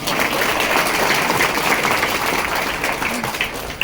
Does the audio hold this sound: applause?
yes